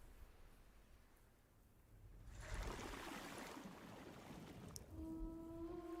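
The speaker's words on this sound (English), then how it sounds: "I hear water." Rushing water from a video game trailer swells in after a quiet start, becoming a loud, steady wash, with sustained musical tones entering near the end.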